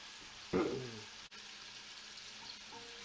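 Pork pieces for chile verde frying in a pan, a steady close sizzle with a louder flare of spattering near the start and continuous crackle after, no voices.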